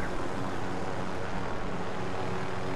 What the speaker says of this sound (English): And just like shooting at a little helicopter.